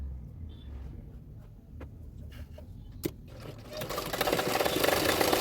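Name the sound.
sewing machine stitching a blouse seam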